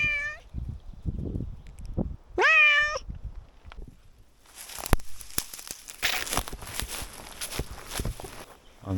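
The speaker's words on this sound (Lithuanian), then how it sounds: "Miau!" A cat meows twice in short, rising calls at close range, followed by crinkling and rustling with footsteps as twigs are gathered on a trip around the countryside villages.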